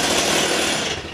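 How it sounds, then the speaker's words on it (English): A chainsaw bores its bar tip into wood while making a picnic bench, a loud, steady, close-up buzzing grind that holds for the whole brief moment and fades slightly at the end. "you push the end of the chainsaw into the wood in a boring-in kind of effect"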